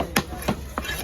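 Three sharp, heavy chops about a third of a second apart as a 12 kg freshwater tilapia is cut up at a Kasimedu fish market stall; close, loud thwacks over a steady background hum.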